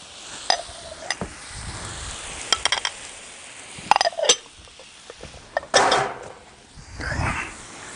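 Rice with green onions, peas and carrots fries on a Blackstone griddle, a soft sizzle broken by sharp metal spatula clanks and scrapes at irregular intervals, close by.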